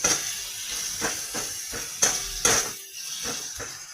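Ginger added to chana dal frying in a pan, giving a steady sizzle under repeated taps and scrapes of a spoon stirring against the pan, close up.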